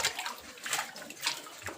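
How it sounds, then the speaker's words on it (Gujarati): A container is filled with water drawn from a stepwell, producing soft, faint splashing and gurgling pulses up close. "પાણી ભરી લીધું"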